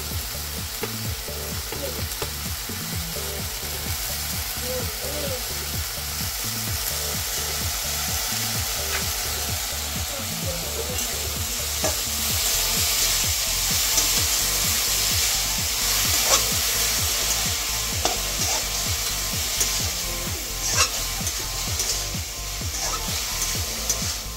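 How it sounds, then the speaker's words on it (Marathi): Dill greens mixture stir-fried in a pan for shepu bhaji, with a continuous close sizzle and a steady rhythm of spatula scraping and stirring against the pan, alone. "असं सर्व मिश्रण एकत्र छान परतून घ्यायचं आणि एकत्र करायचं"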